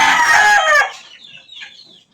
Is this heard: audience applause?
no